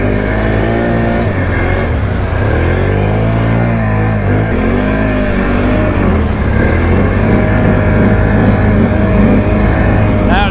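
A snorkeled Can-Am Outlander ATV engine drones steadily through mud in two-wheel drive, loud and close, its pitch rising and falling as the throttle changes, with voices faintly audible beneath.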